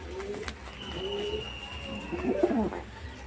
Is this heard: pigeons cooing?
yes